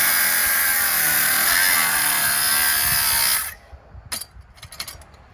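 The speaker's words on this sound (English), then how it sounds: "So let's just keep it simple, grind the suckers off. So I have the grinder out." Grinder cutting off screws on outdoor light fixtures, a loud steady high-pitched whine close by for several seconds, then it cuts out and spins down, leaving scattered clicks and handling noises.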